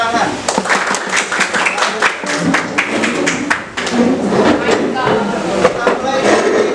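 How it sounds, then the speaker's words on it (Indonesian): A group clapping hands in a classroom exercise, sharp claps in quick rhythmic bursts that thin out partway through and then pick up again, with voices talking alongside. "Oke, tepuk tangan."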